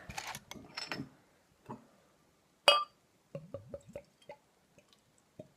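Buxton Brewery pale ale being poured into a glass, heard as a series of close, sharp glugs, splashes and drips that come in short bursts with quiet gaps between, faint overall and with no talking.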